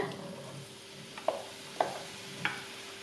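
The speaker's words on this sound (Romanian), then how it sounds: "Peste uleiul încins adăugăm ciupercile," Mushrooms fry in hot oil while being stirred, a soft low sizzle broken by three clear scraping knocks of the utensil against the pan.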